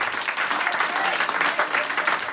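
A church congregation applauds in a dense, steady wash of many hands clapping together, loud and sustained with no break, with voices faint beneath it.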